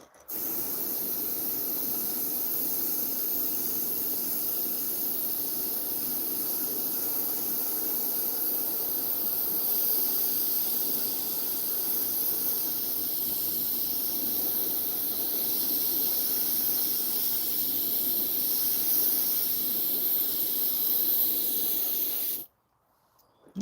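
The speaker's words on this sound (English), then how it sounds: "I'm about to start airbrushing" An airbrush sprays paint onto fishing lures with a loud, steady, unbroken hiss that runs for over twenty seconds, then cuts off abruptly.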